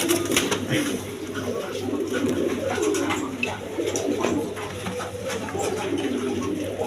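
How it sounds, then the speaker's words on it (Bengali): A pair of Rajgolla pigeons coo steadily in soft, overlapping murmurs close by, with faint market background and some voices underneath. "এইখানে আরেক পেয়ার রাজগোল্লা কবুতর আছে"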